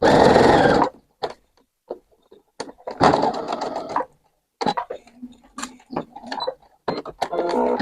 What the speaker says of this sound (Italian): vado a cucire anche questa estremità con un punto dritto a bordo piedino